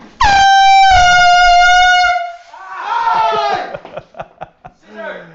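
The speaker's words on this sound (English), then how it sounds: "Air horn grenade, take one." An air horn grenade lets out a loud, sustained blast lasting about two seconds, then fades into close laughter and chatter from people nearby.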